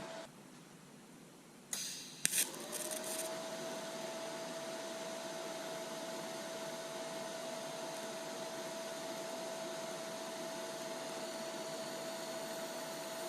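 Shielding gas flows after a TIG weld on a water-cooled Lincoln Electric Aspect 230 AC/DC welder, a steady soft hiss with a faint tone that starts after a few brief clicks and then holds evenly.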